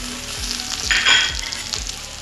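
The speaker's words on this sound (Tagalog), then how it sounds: "Yan, yung typical lang guys na pagigisa, ganun din naman yung gagawin ninyo." Onion, ginger and garlic sauté in a pan for fish sinigang, a bright continuous sizzle with a swell in the middle and a few low spatula knocks against the pan, close and with no voices.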